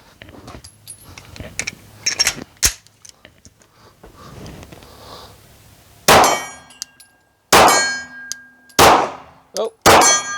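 Several sharp, loud Glock 17 Gen 3 pistol shots ring out at intervals, a few scattered early and four heavy reports in the second half, each with a ringing metallic tail.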